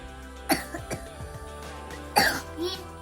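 Two coughs, a harsh burst near the start and a louder one later, close to the microphone, with a few smaller throat sounds between them and no talking.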